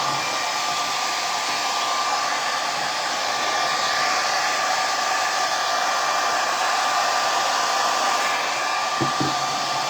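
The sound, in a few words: hair dryer drying top coat on craft gift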